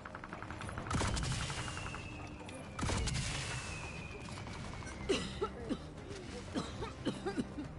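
Gunfire in a Call of Duty match, two heavy bursts of shots followed by a quicker run of lighter rapid shots, with a faint tone and a voice partly under the game sound.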